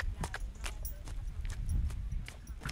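A docile therapy horse walks at a slow pace, its hooves clip-clopping in a steady, even rhythm close by, with no one speaking.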